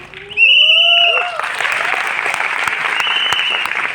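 An audience at a success celebration event in Delhi claps loudly after a brief rising whistle-like cheer, the applause swelling quickly and then holding steady and close with some voices mixed in.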